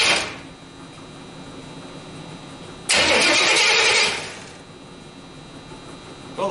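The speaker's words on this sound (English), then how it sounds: "I'm gonna give it a tap on the solenoid and see if it rolls over" A car engine fitted with twin Eaton M90 superchargers cranks over in one loud burst lasting about a second, then drops back to a low ambient hum.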